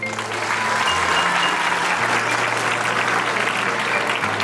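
An audience at a school alumni meet claps continuously in loud, dense applause that stays even throughout, with a sustained low musical tone shifting pitch underneath.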